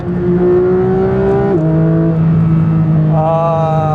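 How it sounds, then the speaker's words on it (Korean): A Porsche 911 GT3 rear-mounted engine revs up loud and steady toward 7000 RPM, its pitch climbing, dropping briefly at a gear change, then rising again in a smooth, throaty whine. "가볍게 RPM을 좀 올려보겠습니다"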